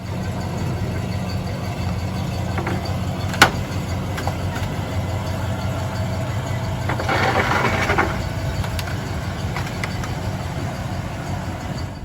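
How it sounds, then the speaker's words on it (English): A vehicle rolls slowly across bare foam board, its engine a steady low rumble with one sharp crack early on and a brief burst of crunching and scraping later, no voices. "Let's see if we can damage this stuff driving directly on the foam."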